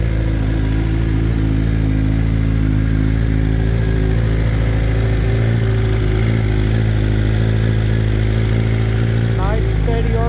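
A BMW M1000RR motorcycle engine runs close by just after startup, holding a loud, even idle rumble the whole time with a slight change near the end.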